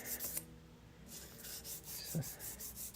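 Fine 1000-grit sandpaper rubbed over wood makes a steady run of close, rhythmic rasping strokes, with no voices.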